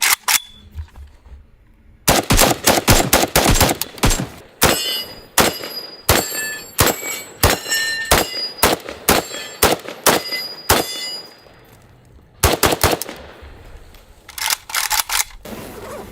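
AKM-style AK rifle with wood furniture firing 7.62x39 rounds, loud sharp close shots in rapid strings and single bursts, with clinking casings and ringing echoes between groups of shots.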